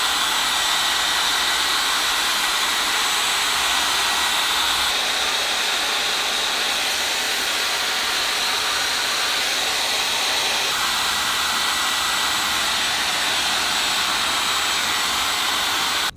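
A hair dryer blowing on curly hair, a loud, continuous close-up whoosh that runs unbroken throughout with small shifts in tone as the airflow moves.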